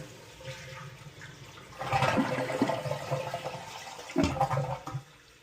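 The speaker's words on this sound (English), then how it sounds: "Now we will flush the toilet to relieve the pressure." A household toilet with a Fluidmaster fill valve is flushed after the water supply has been shut off, giving a rushing, gurgling swirl of draining water that surges twice before trailing off, with no talking.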